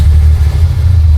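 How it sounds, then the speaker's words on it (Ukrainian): Armored Mercedes G-wagen, an early carburetor version, cranking and catching, a steady loud low engine rumble close by throughout, no one speaking. "Послухайте, як ця штука заводиться."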